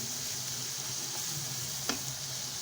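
Vegetables and eggs sizzle steadily in a frying pan for a carrot kaygana, a continuous close crackle with a faint utensil tap near the end.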